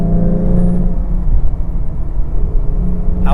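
A 2014 Ford Mustang V6 drives and corners, its low engine drone and tyre rumble loud and steady from inside the car, with a smooth whirring hum throughout.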